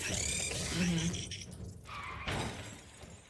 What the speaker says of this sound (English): that's the car noise that you get